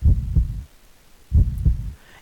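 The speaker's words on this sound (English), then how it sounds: "Even the heartbeat actually makes it a lot more scarier." Game heartbeat from Resident Evil: Project Resistance, a loud, close low thump-thump pair followed after a short pause by another double beat, heavy and muffled with nothing else over it.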